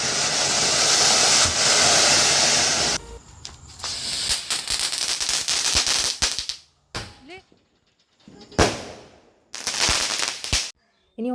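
Firecrackers burst at a home during the Vishu festival in Kerala: first a loud, continuous crackling string for several seconds, then a series of separate sharp bangs and short crackling runs broken by brief silences.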